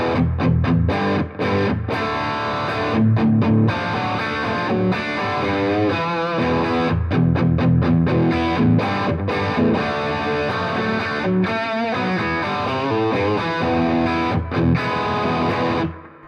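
Electric guitar through a Blackstar HT Venue MK3 valve amp set to a scooped, mid-gain modern rock tone, playing loud distorted chords and riffs with brief choppy stops, heard alone throughout.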